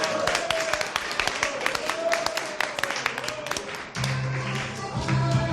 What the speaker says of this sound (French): Ah, applaudis, c'était bien